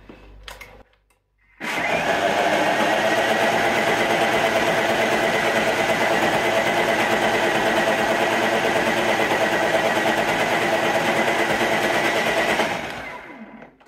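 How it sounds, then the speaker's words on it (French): A countertop blender runs at speed 10, blending hazelnuts into homemade plant milk: a loud, steady high whir starts abruptly, holds for about eleven seconds, then winds down, with no talking. "je vais mixer vitesse 10 pendant au moins 10 secondes"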